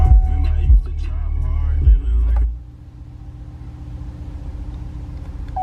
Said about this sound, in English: So we'll go ahead and start the truck up now